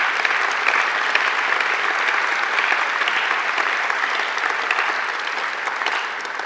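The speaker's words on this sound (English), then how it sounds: "I think they deserve a great round of applause as well." A graduation audience gives a warm, sustained round of applause for the academic representatives at a courtyard ceremony, dense and even clapping from a large crowd that fades slightly toward the end.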